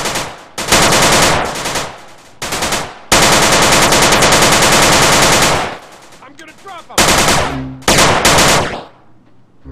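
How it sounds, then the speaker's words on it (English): Automatic gunfire in the video game Grand Theft Auto: San Andreas, loud close bursts of rapid rattling shots separated by short pauses, with brief voices among the volleys. "Get some suppressing fire in there!"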